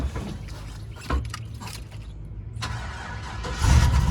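A car engine cranking over in a garage and catching on the first try, a short burst of starter whirring followed by the engine firing up into a louder, deeper rumble, close by.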